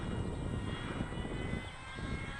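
An RC fixed-wing plane running ArduPlane drones steadily overhead, its motor a continuous buzzing hum at moderate distance with no talk.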